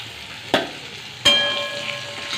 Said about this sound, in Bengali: এটা দেখো পুরো লাল লাল করে আমি ভেজে ফেলেছি